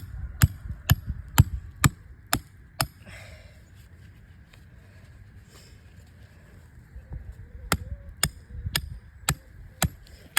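Sharp, regular hammer blows driving a trap stake into rocky, rooty ground, a run of steady strikes, then a pause with faint rustling before the pounding resumes, close and clear.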